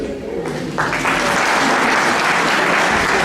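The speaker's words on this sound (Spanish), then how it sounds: "Sí, pues, aplausos." A conference audience bursts into applause that swells within the first second into steady, loud, continuous clapping.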